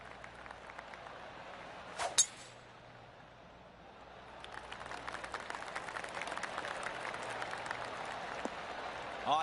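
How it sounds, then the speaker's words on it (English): Golf claps ripple around the course in the video game PGA 2K25: faint, scattered light applause from a distant gallery, with a brief sharp burst early on, over quiet outdoor ambience. "I can hear the golf claps around the course."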